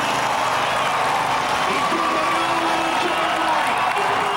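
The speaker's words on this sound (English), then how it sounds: "Let's listen now as the standing room only crowd welcomes our first race winners of the night," A standing-room-only demolition derby crowd cheers race winners, a dense, steady roar of voices and whoops filling the grandstand without a break.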